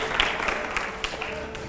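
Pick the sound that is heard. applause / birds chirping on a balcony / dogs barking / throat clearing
applause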